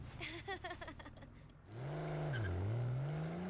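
In an anime scene, a car pulls away with a rising, wavering engine whine that holds steady and close after a short stretch of quieter background sound.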